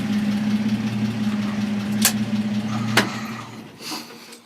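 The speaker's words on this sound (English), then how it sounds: "Those Flowmasters got the best muffler." An old truck with Flowmaster mufflers idles with a steady low exhaust rumble, close and continuous, broken by a couple of sharp clicks partway through.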